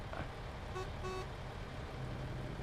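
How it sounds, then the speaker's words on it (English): Bus horn honking in a truck driving game on a wheel setup, a couple of short toots over a steady low engine and road rumble. "Hey, bus driver, stop beeping."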